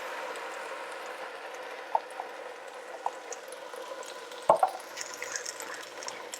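Beef stroganoff sauce made with whole milk simmers quietly in a pot while a spoon stirs it, giving a soft bubbling hiss with a few faint clinks and scrapes partway through.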